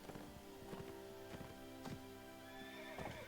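A horse in the medieval video game Mount and Blade Warband neighs several times, with whinnies and clip-clop hoof sounds over a steady in-game background hum.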